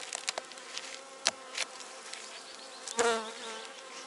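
Honeybees buzz steadily in a close swarm on a queen-rearing grafting frame in a hive, with a few louder knocks and rustles breaking through the drone.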